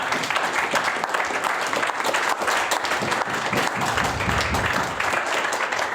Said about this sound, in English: give all our panellists a big round of applause